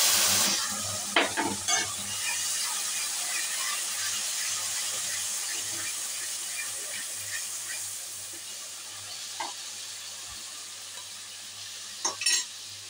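Tomato paste sizzles and fries in a hot pan while being stirred for a vegetarian aloo dum, with a steady hiss and occasional scrapes and clinks of a spoon against the pan.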